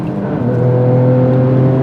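A GR Yaris fitted with an Akrapovič titanium exhaust revs with a loud, rising engine note that shifts in pitch as the revs climb, heard close and alone.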